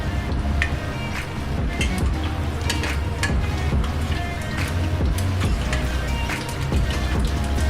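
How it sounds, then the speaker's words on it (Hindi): Mustard seeds sizzling and popping in a hot pan for kadhi while a spoon stirs them, a steady close crackle with scraping throughout and no talk. "और अब इसमें डालेंगे राई। थोड़ा इसको ब्राउन होने तक हिलाते रहेंगे।"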